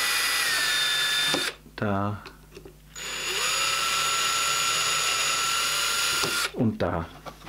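A power drill whines steadily while boring thin holes through an MDF strip for a table saw angle stop. The drill runs in two long bursts, with a short spoken exchange between them.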